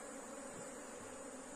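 Apis honey bees buzz around a hive while the colony is being split, giving a steady, faint, continuous drone that sits low in the background.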